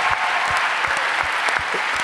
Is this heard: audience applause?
yes